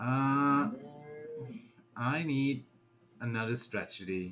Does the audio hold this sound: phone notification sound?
yes